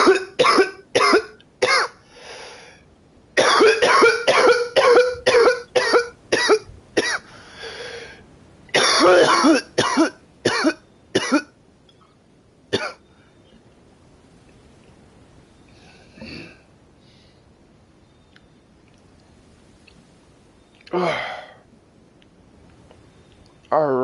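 A man coughs hard in rapid, harsh bursts, one cluster after another over about eleven seconds, close and loud, then a few isolated coughs and a throat clear follow after a quiet pause.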